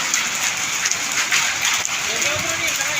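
Heavy hail and rain pour down outdoors in a dense, continuous hiss of pelting drops and icy clatter, loud and close, with a voice briefly audible beneath it.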